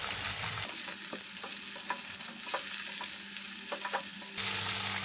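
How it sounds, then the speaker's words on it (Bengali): Cabbage frying in a pan with no water added hisses steadily in a home kitchen, with a series of light stirring scrapes and taps close by; nobody speaks. "একটু ভাজা হলো, এর ওপরেই কিন্তু আমি বাঁধাকপিটা দিয়ে দিলাম"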